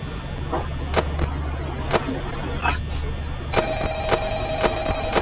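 A phone rings repeatedly in Five Nights at Freddy's, a steady electronic trill pulsing over a low droning hum and background noise, fairly loud and near.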